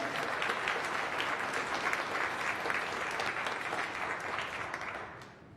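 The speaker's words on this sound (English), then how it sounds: "Give yourselves a round of applause." A Birmingham city audience gives itself a round of applause: sustained, full crowd clapping that holds steady and then tapers slightly at the close.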